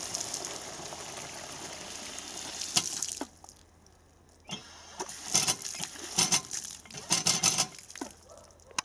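Strong stream of water gushing from a tap at a former narrow-gauge railway station in Kilmez, Udmurtia, rushing steadily and loudly, then broken by splashing bursts and pauses as hands are washed under it.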